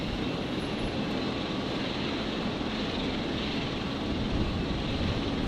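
A Qatar Airways Boeing 777 landing on runway 01 left at Brisbane after a long-haul flight gives a steady, broad jet roar at moderate distance, holding evenly with no talking.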